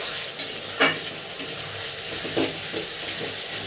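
Onion, ginger and garlic paste frying for a chicken dish, a steady close sizzle with a couple of soft stirring scrapes and no speech.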